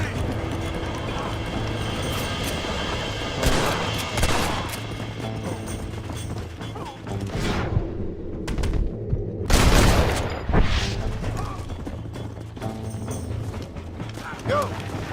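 Bursts of gunfire ring out in a Red Dead Redemption shootout, several sharp loud shots clustered mid-scene over mechanical clatter, hoofbeats and shouting voices.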